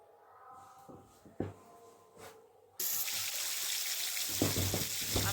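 Pumpkin and potato pieces hit a hot pan and break into a loud, steady sizzle of frying that fills the second half, after quieter kitchen clatter and a few knocks.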